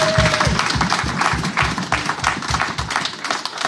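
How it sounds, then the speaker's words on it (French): A church congregation at a Sunday service claps together in a steady, rhythmic beat, the applause filling the room with a dense patter. "Applaudissons le Seigneur"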